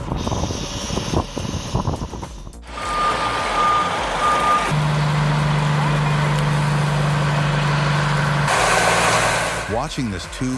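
An oversize truck hauls a 256-ton steel generator down a street, with a constant heavy engine rumble, repeated reversing beeps and a sustained low droning tone, all loud and close.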